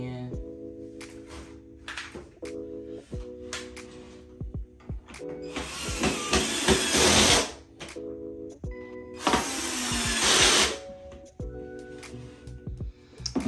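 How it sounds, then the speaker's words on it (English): Two bursts of a power drill whirring as it drives screws into bookshelves, a couple of seconds each, close by, between stretches of talking and scattered clicks and knocks. "Now we're using a drill."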